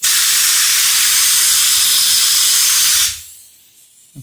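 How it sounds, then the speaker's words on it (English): Steady loud spray-gun hiss as primer coating is sprayed onto an unclean surface, continuous for about three seconds and then cutting off abruptly to near silence. "let's spray some on the unclean side and see if it reacts the same as the Eco Prime did when we thinned it."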